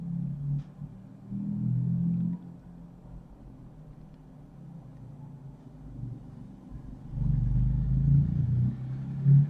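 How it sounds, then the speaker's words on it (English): Low traffic rumble drifts in from outside, a dull muffled drone that swells and fades as vehicles pass, heavier near the end, with no one speaking. "Excuse the background traffic rumblings."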